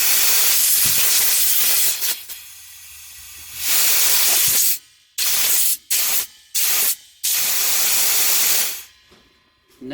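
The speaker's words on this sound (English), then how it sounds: "We're going to blow refrigerant back through here and see if it unblocks here." Refrigerant is blown back through a heat pump line, giving loud, broadband hissing bursts that start and stop several times, with short silent gaps between blasts.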